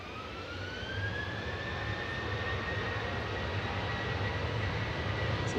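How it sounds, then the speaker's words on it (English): A Ryanair jet airliner departing Manchester Airport, a steady, moderately distant engine roar with a faint rising whine that builds slightly over the clip. "This is Ryanair heading off to Seville."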